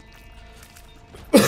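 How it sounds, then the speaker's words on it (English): A single harsh, loud cough bursts out close up at the very end, after a stretch of quiet background game sound. "Oh, that was a bad cough."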